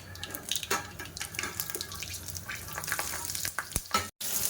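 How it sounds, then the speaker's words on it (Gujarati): Mustard seeds, cumin and asafoetida crackle in hot oil as stuffed green chillies are tempered, giving a continuous close sizzle and frying hiss with scattered sharp pops and utensil clinks, no talking. "આપણે અડધી ચમચી હિંગ ઉમેરી અને આપણે ભરેલા મરચાંનો વઘાર કરીશું"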